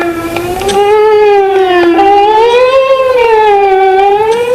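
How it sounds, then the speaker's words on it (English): An off-center vinyl record plays on a turntable, producing a loud sustained tone whose pitch warbles slowly up and down in a wavering, siren-like way, alone. "I can also play a record off-center, so that will distort the sound."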